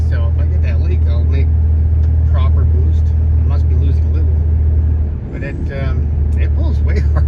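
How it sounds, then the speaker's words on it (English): A truck engine runs loud and steady with a boost leak at the intercooler, a thin high squeal riding over the deep, constant rumble and briefly dipping near the end. "you can still hear the squeal of the leak"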